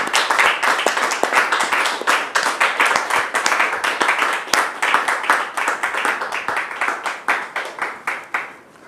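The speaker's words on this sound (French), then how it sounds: "Recevons le frère David sous vos applaudissements" Sustained clapping and applause from a studio audience welcoming a guest onto a French-language religious program, dense and steady throughout, loud and close, with no speech over it.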